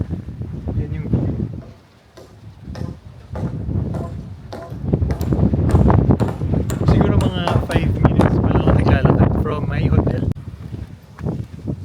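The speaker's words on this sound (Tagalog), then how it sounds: "Sobrang lakas ng hangin actually." Strong wind buffets the microphone by the sea in Santorini, gusting in loud rumbling bursts under a person talking almost continuously.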